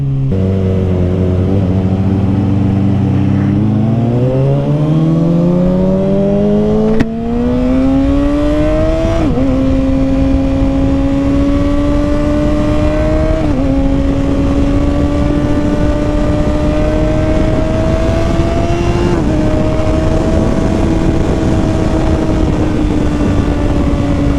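A loud 2021 Kawasaki Ninja ZX-6R with an M4 Street Slayer slip-on exhaust runs up close, climbing through several gears with rising pitch and brief drops at each shift.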